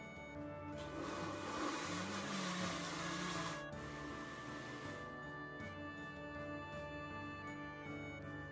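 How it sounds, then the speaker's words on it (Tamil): A mixer grinder blending batter whirs loudly for a few seconds, then drops to a lower steady hum as it keeps running. "இதை அப்படியே மிக்ஸி ஜாரில் மாற்றி ஒரு பிளெண்ட் பண்ணி எடுத்துக்கிடுறேன்"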